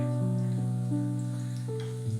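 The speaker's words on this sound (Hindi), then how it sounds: "ऑयल गरम हुआ है। अब मैं इसमें लहसुन डालूंगी और" Garlic and whole dried chillies fry in hot oil, making a soft, continuous sizzle under a steady hum, with brief bursts of spattering. No one speaks.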